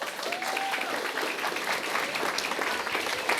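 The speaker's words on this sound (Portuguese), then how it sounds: "Uma salva de palmas para todos vocês." Audience applause after a lecture, a dense, sustained wash of clapping from many hands at moderate distance, with a faint voice briefly audible under it.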